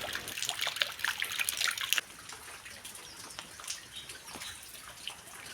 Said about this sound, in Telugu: ఇవన్నీ కూడా డాబా మీద నుండి పడే నీళ్ళు అనమాట